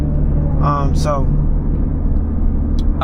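A 700-horsepower BMW M3 G80 engine idles with a low, steady rumble and exhaust drone, close by and continuous, with a couple of brief higher sounds over it.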